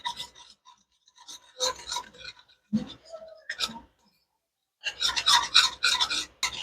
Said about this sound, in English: Mixing our flour and butter, and we're going to whisk this for 1 minute.